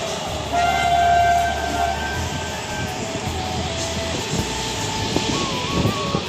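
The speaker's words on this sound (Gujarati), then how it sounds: "વિડીયો ચાલુ તો ટ્રેન આવી જાય" A train rumbles past at a steady, loud level, with a broad rushing roar and a brief high horn-like tone near the start.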